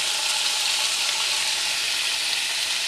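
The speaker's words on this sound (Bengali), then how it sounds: "এর সঙ্গেই পেঁয়াজটা ভাজব," A small onion fried in oil along with pumpkin, potato and pointed gourd makes a steady, moderately loud sizzle throughout, with a faint clink at the very end and no talking.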